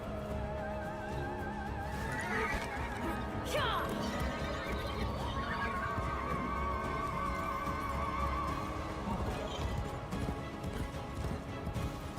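A horse in Warframe's Duviri Paradox whinnies in a rising, wavering call amid hoof clip-clops and game sounds in a busy, continuous mix.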